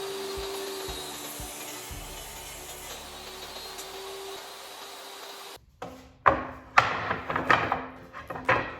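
Walnut strips for a large cutting board are ripped to width on a saw: a steady, loud machine whir runs for several seconds, then cuts out, followed by sharp wooden knocks and clattering as the pieces are handled.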